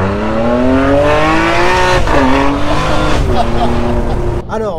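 A Ferrari sports car engine roars loudly beside a wall, its rising and falling revs forming strong harmonic sweeps that hold steady for several seconds before tailing off near the end.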